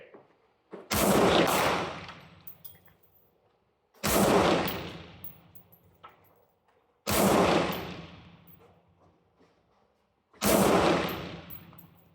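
An M16A1 built from a parts kit fires at a 100-yard range. Four sharp, loud reports land about three seconds apart, and each one rings out into a long decaying echo.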